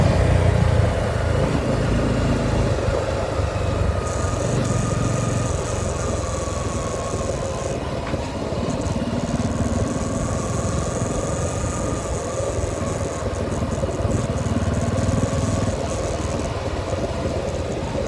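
A Bajaj Pulsar 250 motorcycle rides through traffic with a steady, loud engine drone and wind noise lasting throughout, with no talking.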